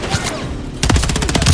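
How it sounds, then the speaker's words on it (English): Enemy gunfire in Call of Duty, a sudden loud burst of rapid automatic shots cracking in quick succession after a brief lull, close and dense with booming low impacts. "There's enemy fire."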